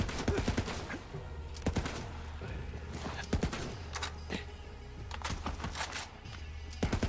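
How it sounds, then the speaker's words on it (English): Video game gunfire from Borderlands 3, bursts of sharp repeated shots in irregular clusters, fairly close and prominent, with no talking over them. "That was some terrible shooting there."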